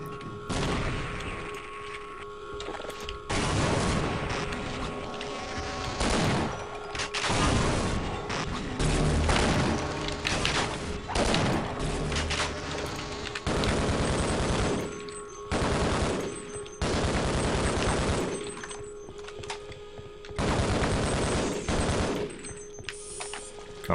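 A turret in berserk mode in a classic shooter video game, firing long rapid machine-gun bursts separated by short pauses, loud and close, with a few heavier booms.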